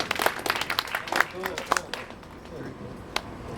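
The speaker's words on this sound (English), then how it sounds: "We'll give Doug a round of applause for putting this up here." Applause from a small audience at a cigar box guitar workshop, with quick scattered claps early on thinning to a sparse patter, and someone talking over it.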